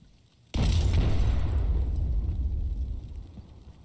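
A single grenade blast in the video game Escape From Tarkov bursts suddenly out of near silence, loud and close, with a deep rumbling tail that fades over a few seconds.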